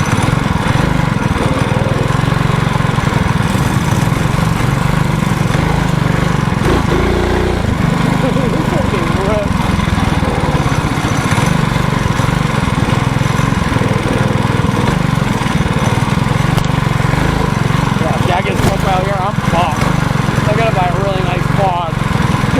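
A small mini bike engine runs continuously with a loud, buzzy lawn-mower-like drone, close and steady throughout, with people talking over it.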